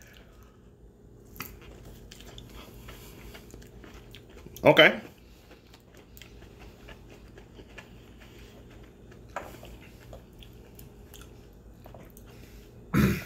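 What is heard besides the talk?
chewing and biting a hot pepper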